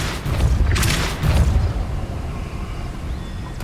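A Depulso force spell blasts in Hogwarts Legacy, a loud booming whoosh followed by a second burst, then a fading rumble, with no talk.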